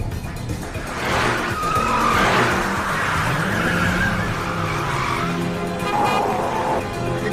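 A car speeds hard and skids in a movie car chase, its engine roaring close and loud with drawn-out tire squeals rising and falling over several seconds.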